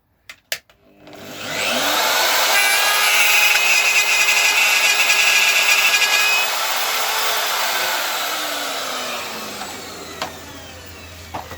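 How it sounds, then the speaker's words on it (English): Router fitted with a 1/4 inch cutter cutting a 10mm deep slot in wood for a replica K6 telephone box: a brief clatter, then a loud, steady high whine with a grinding cutting tone, fading as the motor winds down. "I've got my router here with a 1/4 inch cutter in it, and I can set to 10mm depth"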